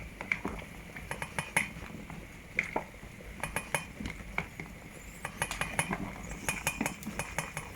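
A utensil scrapes and clinks against a cooking pot as boiling yams are stirred, producing close irregular metallic taps over a faint bubbling background with no speech.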